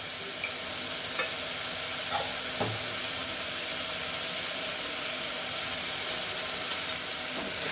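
Ginger garlic paste frying for mutton gravy gives a dense, even sizzle with a constant hiss, broken by a few faint scrapes of stirring, close and steady the whole time.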